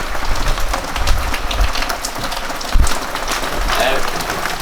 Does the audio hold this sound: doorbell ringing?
no